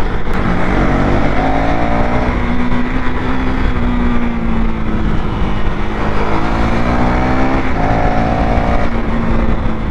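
Two 390 motorcycles rev hard at full power side by side, a loud continuous engine roar with repeated rising pitch sweeps as they accelerate, plus steady wind and road rush.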